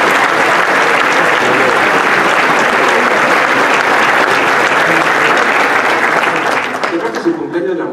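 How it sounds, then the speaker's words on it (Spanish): A conference audience breaks into loud, dense applause celebrating a company's 70th anniversary, a sustained wash of many hands that fades out over the final second. "me permito brindar el primer aplauso a Marsh por sus 70 años"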